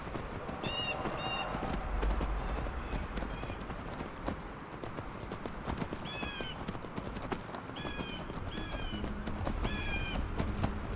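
Horse hooves clip-clopping steadily up rough terrain in the video game Skyrim, close and continuous, with occasional bird chirps and light ambient noise behind.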